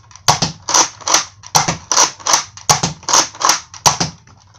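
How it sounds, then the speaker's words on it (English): Mega Rotofury toy blaster slam-firing a rapid series of about ten sharp, loud pneumatic cracks in an even rhythm, each with a short hiss, close by with no talking. "I'm going to do 5 non-slam fire shots and 5 slam fire shots."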